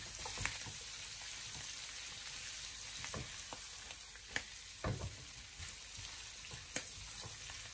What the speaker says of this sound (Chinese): 立刻的开中大火把它稍微的翻炒一下